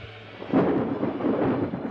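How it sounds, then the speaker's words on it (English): Thunder used as a documentary sound effect, a loud deep rumbling roll that swells after a brief lull and keeps grumbling, with no voices over it. "the roar of thunder"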